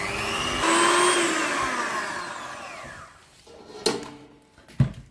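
A food processor mixing oat crumble whirs loudly for about three seconds, then winds down, followed by a couple of sharp clunks and knocks.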